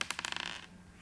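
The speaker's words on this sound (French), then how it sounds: "Jetez les dés encore une fois." A quick rattling clatter of dice tumbling and bouncing on a surface, settling within about half a second, quiet and close.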